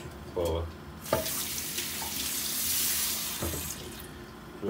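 Water from boiled potatoes pours and splashes into a kitchen sink in a steady rushing burst lasting a few seconds, with brief clatters before and after, close and moderately loud.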